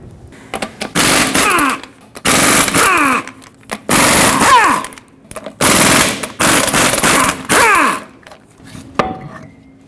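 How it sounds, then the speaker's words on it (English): An air impact wrench with a 21mm socket removes the eight lug nuts from a 2011-2016 Ford F-350 wheel, firing loud rattling bursts about a second long, one after another, close up in a garage. "you can use a 21mm socket and remove all 8 lug nuts that hold the wheel on"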